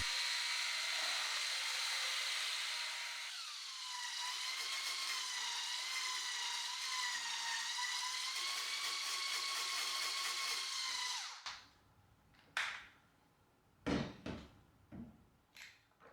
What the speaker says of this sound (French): Montez la crème à l'aide d'un fouet électrique ou d'un robot pâtissier.